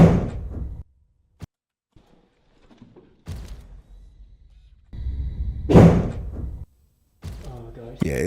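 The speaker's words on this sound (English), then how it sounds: "it's almost a perfect door slam, like a perfect door slam sound, almost." A door slam in a paranormal investigation recording at Fairfield, a sharp loud bang standing out among several shorter knocks and thuds separated by near silence.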